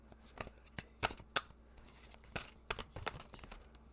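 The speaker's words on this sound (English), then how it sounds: "There's a lot of cards." Tarot cards are handled and spread in a close, quiet series of irregular papery snaps and flicks, with no talking.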